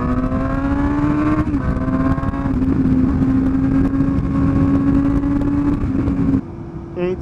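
A 2017 Suzuki GSX-S 750 motorcycle engine climbs loudly through its rev range, the pitch rising steadily before dropping off briefly near the end, heard up close under wind.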